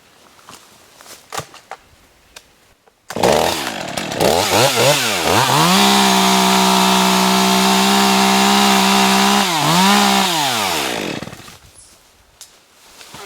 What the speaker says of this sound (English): we've got a log across here, and I'm just going to cut that off